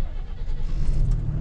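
A DAF XF truck engine idles in neutral, a low, steady rumble that stays close and even with no voices over it.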